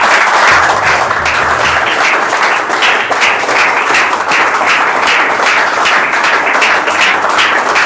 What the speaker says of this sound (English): Please give a huge round of applause for me today and for yourself today